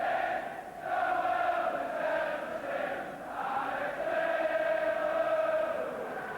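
A big, noisy football crowd at Liverpool v Watford roars and chants in a dense continuous wash, swelling and dipping in waves across the stadium.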